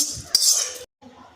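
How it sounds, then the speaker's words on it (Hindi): A metal spoon clinks against a pan, followed by a short hissing splash as hot tempering oil hits semolina idli batter, then brief faint scraping. "तड़का है वाला मैं यहाँ पर डाल दूँ।"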